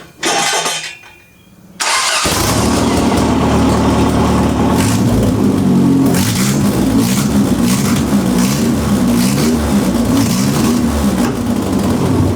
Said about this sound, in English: with the headers, you can hear the misfire. You hear it popping.